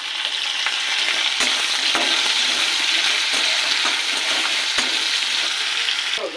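Grated ginger going into chopped potatoes already fried red in oil, a loud continuous close sizzle with a few sharp utensil taps, no talking.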